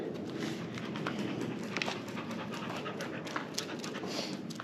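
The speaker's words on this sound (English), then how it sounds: "Stray dogs joined me." Stray dogs pant rapidly and patter along close by, a continuous quick breathing rhythm mixed with soft footfalls over a steady outdoor background.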